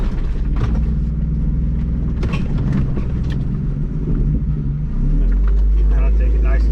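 A loud, rough off-road vehicle engine with its exhaust removed rumbles close by on a mountain trail, a deep, throaty roar that grows heavier near the end, with a voice speaking over it.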